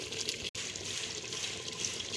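Water poured from about two glasses into a pan of fried goat head meat, a steady broad splashing hiss that runs continuously apart from one brief break.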